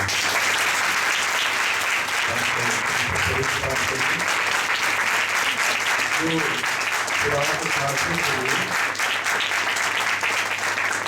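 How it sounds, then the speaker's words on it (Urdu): A church congregation claps steadily and loudly for the whole stretch, a dense even wash of applause with a faint voice or two murmuring underneath. "کیوں نہ ہم faith mercy and truth church کے لیے زوردار تالیاں بجائیں"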